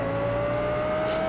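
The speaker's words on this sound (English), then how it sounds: "That Mustang is a really fun GT4 car to drive." Ford Mustang GT4 race car engine in Project Cars, a close, loud, steady drone holding one pitch with a slight rise over a brief moment.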